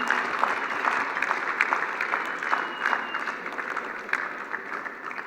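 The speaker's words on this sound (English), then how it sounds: "Let's give Simon and Helen a big round of applause" An audience at a business event applauds Simon and Helen, a sustained patter of many hands clapping at moderate distance that gradually eases off over a few seconds.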